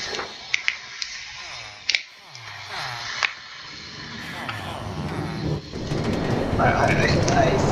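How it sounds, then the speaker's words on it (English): A video game train's rumble swells from quiet to loud as it approaches and passes, following a few sharp clicks, with someone talking. "Wait for the train again."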